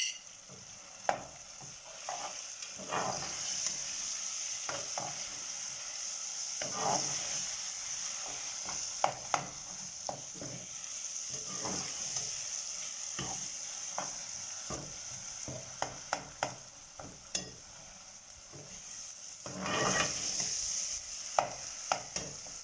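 Spiced tomato masala with crushed chilli and turmeric sautéing in a pan, with a continuous sizzle broken by frequent spoon scrapes and stirring strokes, close and moderately loud.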